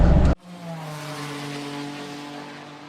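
A Ford Ranger 2.2 4x4 pickup on MT tyres accelerates at full throttle on asphalt. A brief loud burst gives way to a steady, droning engine note with layered harmonics that holds through to the end.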